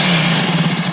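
Honda CT90 motorcycle engine running steadily after its carburetor work, a loud, close, buzzing single-cylinder drone with an even rhythm throughout.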